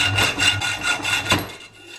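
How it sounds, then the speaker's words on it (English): A hacksaw cuts through metal while a microphone mount is modified for a Canon M6 camera, giving a steady rasping back-and-forth rhythm of several close strokes before tapering off. "First cut is done. That's a hacksaw."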